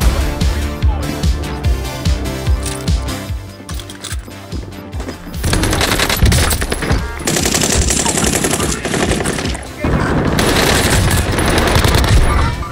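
Loud rapid automatic gunfire from a gunfight in the Warzone video game, with dense repeated bursts and crashing impacts running almost continuously, and no talking.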